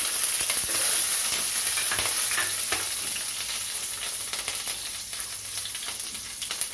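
Green chillies fry in hot oil with mustard seeds for tomato rice, giving a dense, steady sizzle and spatter that is loudest at the start and eases slightly; no one speaks.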